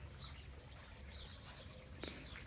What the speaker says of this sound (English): I love to hear the fountain. The birds, of course, love it too.